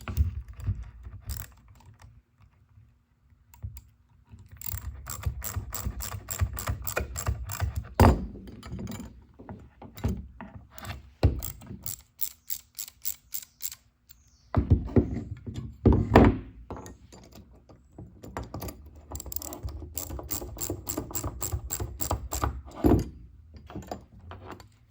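A ratchet wrench with a 7/16-inch socket tightens fasteners on a Carbon Cub SS aircraft coil pack, giving rapid clicking runs of ratchet teeth between dull clunks and pauses, close and clear.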